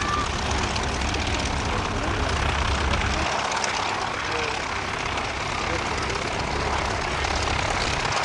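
A Taylorcraft light aeroplane with side-by-side seating flies past at an airfield, its propeller engine giving a continuous loud drone. A steady broadband roar fills the whole stretch without a break.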